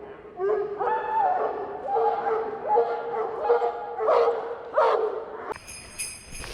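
Flyball dogs bark and yip repeatedly at a sports field, a run of excited, fairly close barks with whiny edges, followed by a brief burst of higher-pitched noise at the end.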